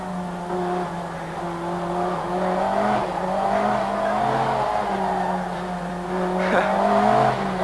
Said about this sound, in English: Tending to understeer into the corners and then snapping to oversteer when the brute power of 500 horsepower is applied